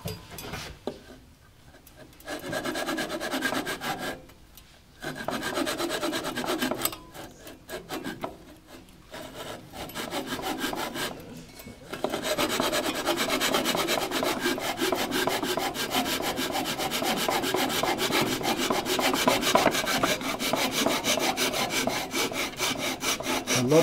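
Japanese pull saw cutting through wood on a jig, steady rasping strokes that pause briefly a few times early on, then run continuously and close for the last half.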